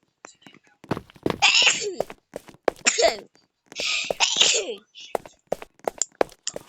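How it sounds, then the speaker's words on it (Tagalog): A woman sneezes several times, sharp, forceful bursts spaced a second or two apart, with brief talking and small knocks around them at close range. "Bumahing pa nga si ante."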